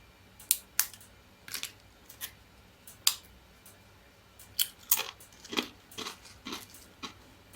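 Crisp homemade microwave potato chips crackling and snapping in quick, irregular bursts, sharp and close, with quiet gaps between them and no voices.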